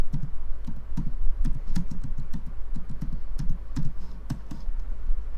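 Computer keyboard keys clatter in quick, uneven bursts of typing, close and clear over a steady low hum, with no voices.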